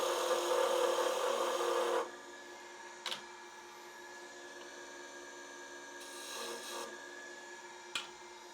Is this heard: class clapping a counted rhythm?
no